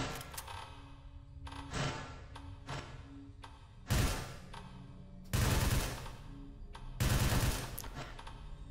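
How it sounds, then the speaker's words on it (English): Shotgun blasts in the alpha build of Spaceman Labs Tactical Raid, a FEAR-inspired horror shooter: several loud, booming shots spaced a second or so apart, with quieter game clatter and ambience between them. "Shotgun has a nice kind of spread to it."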